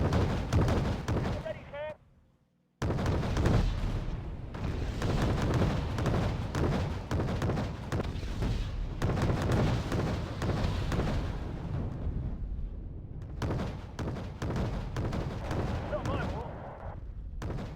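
Wargame Red Dragon artillery barrage, heavy booming rounds fired in quick succession as a continuous rumbling roar, with a short silent gap early on and brief spoken lines over it.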